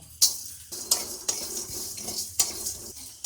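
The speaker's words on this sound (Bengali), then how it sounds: "মশলাগুলো ভাজা হয়ে গেছে, এই যে শব্দ হচ্ছে, নামিয়ে নেব" Whole spices (coriander, cumin, garam masala, mace, nutmeg) dry-roasting in a dry pan, with a few sharp scrapes and clinks of a spatula against the metal over a soft crackle, close and moderately quiet.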